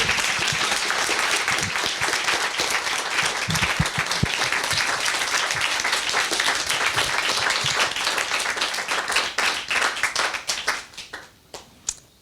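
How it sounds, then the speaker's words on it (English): An audience at a talk gives dense, sustained applause: a loud, continuous wash of many hands clapping that stays level for about ten seconds, then breaks into a few scattered claps and dies away. "Could we have a round of applause"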